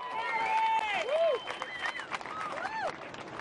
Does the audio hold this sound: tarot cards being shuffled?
no